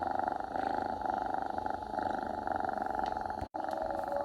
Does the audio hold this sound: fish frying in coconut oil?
no